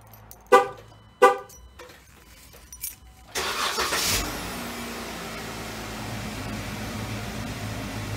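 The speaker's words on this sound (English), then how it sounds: "why don't we go ahead and fire up the Jeep" Two loud car horn toots and a small click come first, then a Jeep engine cranks and catches, settling into a steady, fairly loud idle that runs on to the end.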